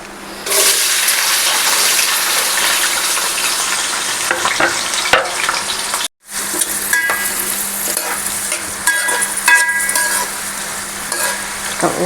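Bay leaf frying in hot oil in a pot as biryani is started at home, a loud, steady sizzle that cuts out for a moment midway, then resumes with light stirring clatter.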